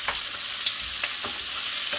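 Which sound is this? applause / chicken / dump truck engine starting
chicken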